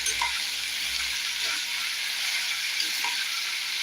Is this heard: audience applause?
no